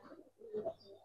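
Giribaz pigeons, old-breed silver lalpatti birds, give a short soft cooing call in two brief swells, close and quiet.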